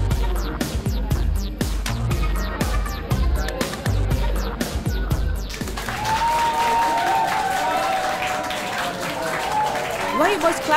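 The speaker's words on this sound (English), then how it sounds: "Why are you boys clapping?" Schoolboys clapping in a classroom: sharp, fairly loud claps repeat quickly for several seconds, then stop and give way to a noisy hubbub of children's voices.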